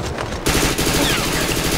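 Rapid automatic gunfire from a shooter video game, played in an SMG tournament round: a dense, loud, continuous exchange of shots bursts in after a brief quieter moment and keeps going to the end.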